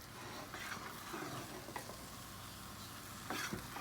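Thick popover dough being turned in a pan gives a soft, steady scraping and stirring sound with a faint sizzle, fairly quiet throughout, with a few louder scrapes near the end.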